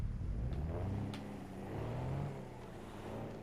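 Car engine in the video game Watch Dogs Legion, a steady low drone that swells and eases as it revs, fairly quiet and continuous with no talking.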